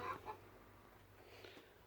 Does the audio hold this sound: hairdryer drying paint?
no